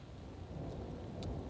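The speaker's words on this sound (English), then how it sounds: "Thunder was rumbling really close and the freaking lightning struck down in the field" Thunder rolls as a soft, continuous low rumble during a rain-soaked thunderstorm in an open field along the Continental Divide Trail. Rain patters faintly throughout, and no one speaks.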